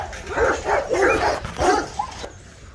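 Rottweiler puppies at a kennel whimper and yip close by in a rapid run of short, high, whining cries, several in quick succession before fading out.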